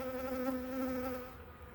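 Honeybees buzz around an open beehive during a frame inspection, a steady close droning hum that fades slightly toward the end, with no talking.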